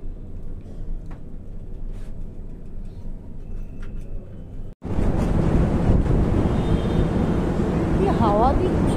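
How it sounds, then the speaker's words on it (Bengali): Wind blowing outdoors outside an airport, a steady low rush that suddenly surges much louder halfway through and buffets the microphone to the end. "হাওয়া দিচ্ছে"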